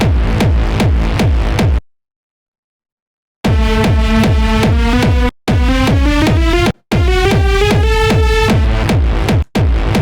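Melodic hard techno synth lead over a pounding four-on-the-floor kick drum, loud and driving, with a short gap of silence and brief dropouts between phrases.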